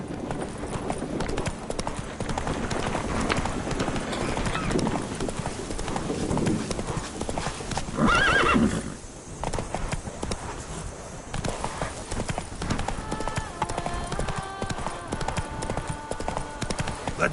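Steady hoof clip-clop of a horse moving at pace in The Witcher 3: Blood and Wine, continuous and fairly close, with a brief whinny-like tone in the middle and game sounds alongside.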